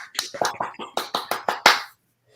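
A small audience welcoming a guest gives about nine sharp, evenly spaced claps, close and distinct, ending in silence.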